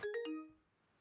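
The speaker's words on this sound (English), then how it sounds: "Oh, that's the save game noise." A video game's save chime: three quick bright bell-like tones ringing out in a rising sequence, then fading away cleanly, heard alone and fairly soft.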